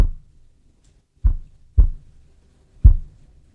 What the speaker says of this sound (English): One band, for example, controls the fundamental tone of the kick drum.